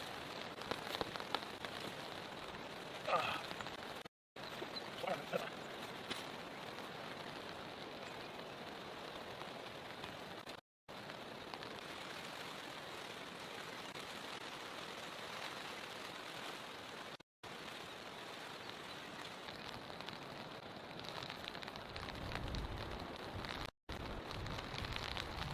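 Heavy rain falling at night during a cold, rainy night of car camping near a fire, a dense, steady hiss of drops on surfaces running throughout, with a few brief dropouts and a deeper rumble rising toward the end.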